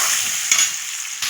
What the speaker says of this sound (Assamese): মাছ ভজা তেলতে মই পিঁয়াজখিনি গোল্ডেন কালাৰ হোৱাকৈ ভাজি ল'ম